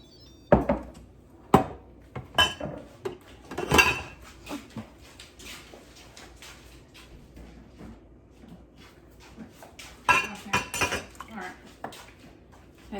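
Dishes and a pot lid clatter and clink in a home kitchen while chowder is covered, with several sharp metallic knocks scattered through the clip over quiet background noise and people talking.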